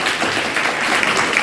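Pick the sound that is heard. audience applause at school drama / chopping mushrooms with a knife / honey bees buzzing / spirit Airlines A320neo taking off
audience applause at school drama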